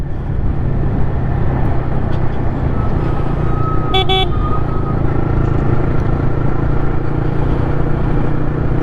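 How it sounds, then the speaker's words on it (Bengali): A Yamaha MT-15 motorcycle fitted with an Akrapovic R1M exhaust is ridden on a road, giving a steady, dense engine and road drone throughout, with a brief horn toot about halfway through. "বেশি গিয়ার দিয়ে একটু রানিং রাখলে আপনার বাইকের এক্সস্টের সাউন্ডটা একটু কম আসে।"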